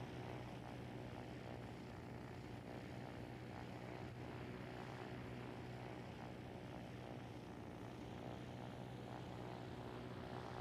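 Propeller of a home-built, helicopter-like vehicle in a building video game, a steady droning whir with a constant hum, fairly faint and unbroken throughout.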